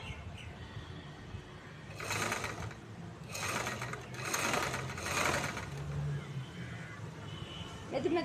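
A sewing machine stitches two layers of chudithar fabric along a canvas edge, running in three or four short bursts of rapid needle clatter separated by brief pauses, close by and moderately loud.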